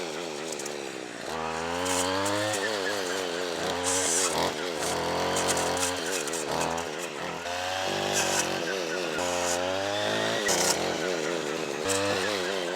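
A string trimmer fitted with a Forester chainsaw-tooth brush cutter blade revs loudly and cuts into a big cedar limb outdoors, its engine whining up and down in repeated bursts.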